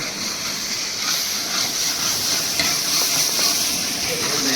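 Gravy for panchratna dal, made with groundnut oil, cooks in a pan with a steady close sizzle and bubbling, the hiss continuous and fairly loud throughout with no voices.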